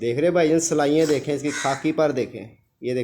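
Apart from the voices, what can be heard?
No distinct noise like a dog, phone or traffic.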